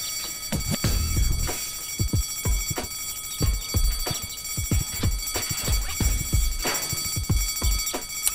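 A repeating alarm bell rings in the point-and-click adventure game Deponia, loud and steady with quick rhythmic pulses, over a dense layer of game sound and no speech.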